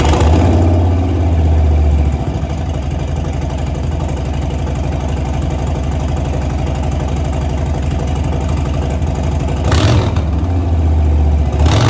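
A Harley-Davidson Sport Glide fitted with a Bassani Road Rage 3 2-into-1 exhaust with short megaphone and a Screaming Eagle tuner idles loud and close, a deep steady lumpy rumble with a short rev near the end.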